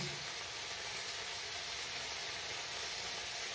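Tomatoes and green chillies sauté in a pan for a spicy egg pepper gravy, giving a steady, hissing sizzle that holds evenly without a break, moderately loud and close.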